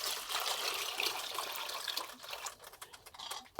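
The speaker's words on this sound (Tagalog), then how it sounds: "Lagyan natin tubig." Water trickles and splashes steadily into a cooking pot while chicken tinola with chayote is being made, a close, continuous pour that thins out toward the end.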